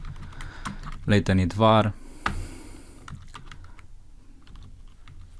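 Code is typed on a computer keyboard in a rapid run of soft key clicks that continues quietly beneath and after a man's speech.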